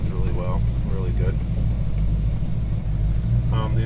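Engine of a 1934 Ford three-window idling around 850 to 900 RPM, a steady low rumbling thrum with an even pulse, close by, with someone talking over it at points.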